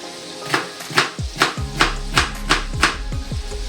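An onion being chopped into small cubes on a board with a knife while bacon fries, for a potato babka: about eight crisp, evenly spaced knife knocks, close and clear, with no talking.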